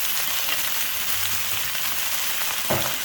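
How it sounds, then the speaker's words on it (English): Onion, carrots and green capsicum sauté in a hot pan for a chicken Manchurian stir fry, giving a steady, close hiss and sizzle with a brief stir-like scrape near the end and no talk. "Saute it about for 5 minutes."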